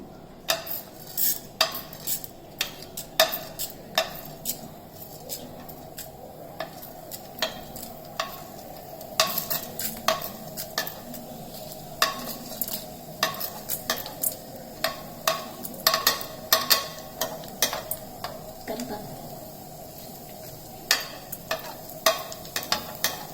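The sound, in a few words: urad dal roasting in hot oil, stirred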